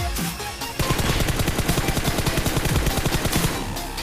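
Rapid automatic gunfire from the mobile shooter BGMI, a dense burst of sharp repeated shots for nearly three seconds after a brief lead-in, loud and close with game ambience around it and no speech.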